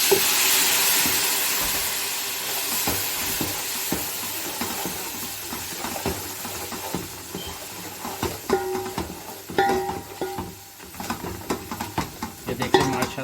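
Masala fries in a pan for mutton yakhni pulao, a steady hiss that fades gradually while spoon scrapes and stirring knocks grow more frequent toward the end.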